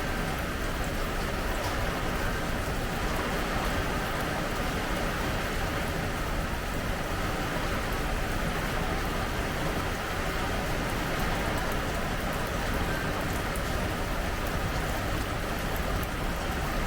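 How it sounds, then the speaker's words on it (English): Hurricane rain pounding an aluminum porch roof, a dense, unbroken hiss and drumming that stays loud and even throughout with no voices. "Now it's just rain."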